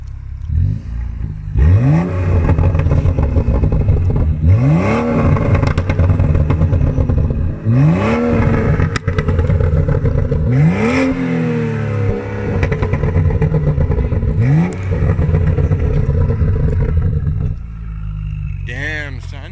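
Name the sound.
car engine revving through exhaust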